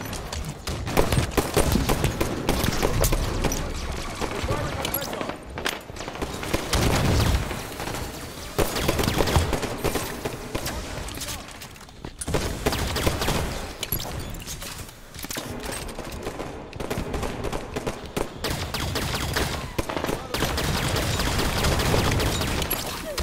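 Dense, continuous enemy gunfire in the Halo 5 multiplayer game: sustained automatic bursts and blasts rattle almost without pause, loud and close, with brief lulls between volleys.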